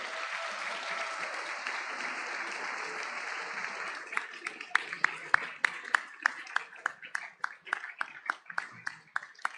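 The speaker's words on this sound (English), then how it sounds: "If we could give a round of applause as our donors all make their way to their seats tonight." Audience applause at a high school scholarship night as donors walk to their seats: a dense wash of clapping that thins into a few scattered, sharp individual claps with a voice underneath.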